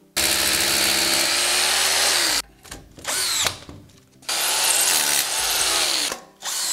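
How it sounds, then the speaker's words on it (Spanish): A power drill bores into a metal drywall track for a sliding door pocket frame, loud whining runs with short pauses and stop-start bursts, close by with no talk. "Vamos a taladrarlo."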